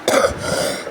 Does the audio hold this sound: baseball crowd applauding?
no